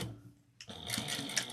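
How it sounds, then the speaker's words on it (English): A home sewing machine stitches a quarter-inch seam on a pillowcase, starting after a brief quiet moment with a quick, steady mechanical whir and needle chatter, close and fairly soft. "We're going to take this to the machine and we're going to sew this with a 1/4 of an inch seam allowance."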